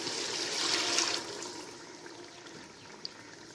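Water is poured from a glass into a pot of whole masoor lentil pulao rice, a soft steady splashing pour that swells and then tapers into a gentle trickle, nearby with no talking.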